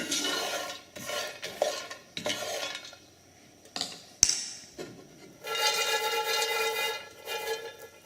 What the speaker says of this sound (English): the key here to roasting coffee in a pan is to keep it stirred up